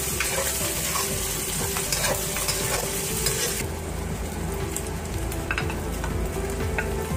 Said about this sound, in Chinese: 肉馅把它炒出油， 倒入葱、蒜末